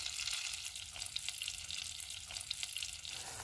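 Butter, sugar and cream cook together on a stovetop for caramel sauce, giving a steady, even bubbling sizzle throughout with no voices.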